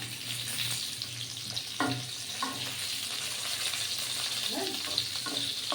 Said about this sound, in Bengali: পটল আলুটা কেমন ভাজা ভাজা হয়ে আসছে।